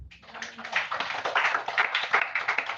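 A church congregation claps along during a sermon, a quick rhythmic patter of many hands building into a steady, lively pulse.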